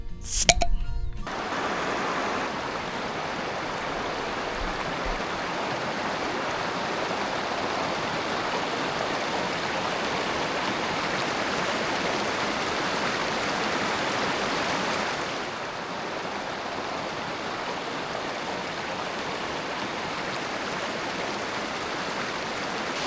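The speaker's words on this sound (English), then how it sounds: "Crossing the river was the best part here." The Guadalupe River rushes steadily past during a hike crossing, a close, broad wash of flowing water that holds constant for the full stretch, dipping a little partway through, with no talk over it.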